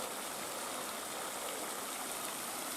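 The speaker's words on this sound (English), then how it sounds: "The river down to the left." A river rushes near a petrified fountain in the mountains, a steady broadband roar of flowing water filling the scene without pause.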